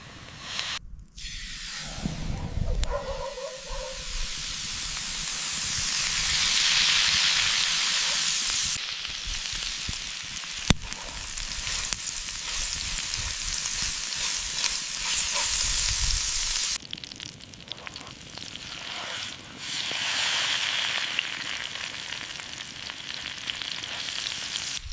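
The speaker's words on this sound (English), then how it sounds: "Now this spice-coated meat goes right onto the cast iron." Spice-coated marinated zebra meat sears in a cast iron pan over coals outdoors in the African savanna, a loud continuous frying hiss and sizzle with crackles, with no talk.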